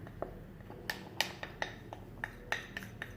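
A metal spoon clinks lightly against a bowl while scooping starch, in a series of small taps at an uneven pace, fairly close and quiet.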